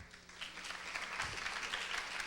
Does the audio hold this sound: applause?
yes